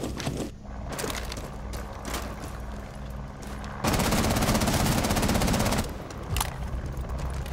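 Gunfire in Rainbow Six Siege during a Bank team deathmatch: bursts of rapid automatic shots, with a dense sustained volley in the middle, loud and close, with scattered single shots before and after.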